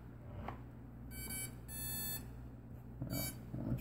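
A Walkera X350 Pro drone's electronic speed controllers play a short calibration tune of faint high electronic beeps in a few separate bursts over a quiet background.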